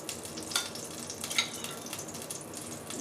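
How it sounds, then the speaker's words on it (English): Onion cooking in spooned-back pan drippings sizzles steadily and softly, with a couple of brief stirring scrapes and no voices. "Use that to cook up my onion."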